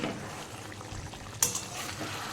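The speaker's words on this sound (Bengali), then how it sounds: "একটু নেড়ে দিই" Chicken with vegetables being stirred in a covered pan after the lid is lifted, a soft steady frying hiss with a brief scrape of the spoon midway, close and quiet, no talking.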